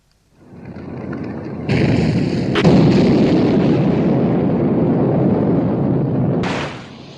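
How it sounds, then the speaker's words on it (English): Heavy naval gunfire as the battleships Prince of Wales and Bismarck trade broadsides in a film, a loud sustained roar of artillery blasts swelling after a quiet start, with sharp new salvos cutting in partway and near the end. "Prince of Wales and Bismarck exchanging fire."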